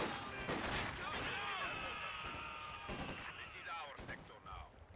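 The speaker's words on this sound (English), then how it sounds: "heavy assault rifle fire" Heavy assault rifle fire in the World War II strategy game Company of Heroes 2 rings out as dense, overlapping bursts of gunfire with crashes and battle din over several seconds, with a commentator talking over it.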